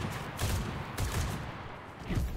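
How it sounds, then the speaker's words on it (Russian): Machine gun fire in the World War II video game Enlisted: dense, continuous bursts of rapid shots that swell and fade in waves, loud and close with no voices. "Но его, конечно, колбасит, колбасит пулемет."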